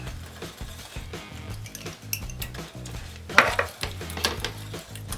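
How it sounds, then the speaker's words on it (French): Hot salted butter caramel bubbles and sizzles in a pan as cream is added and stirred in, with steady scraping and clinking throughout and no talking. "Deuxième fois, j'ajoute ma crème."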